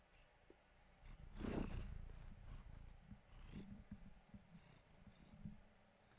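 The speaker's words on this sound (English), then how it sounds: "Oh, he's purring so hard." A cat purrs close by in a soft, continuous rumbling flutter. The sound swells briefly near the start and then stays low and steady, with no talking.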